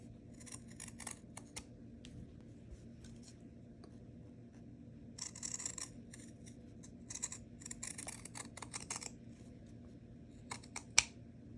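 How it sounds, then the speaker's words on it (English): Pinking shears snip through the fabric seam allowance of reusable gift wrap in quiet, intermittent bursts of crisp cutting, separated by short pauses. "you can go in and cut some of the seam allowance with pinking shears"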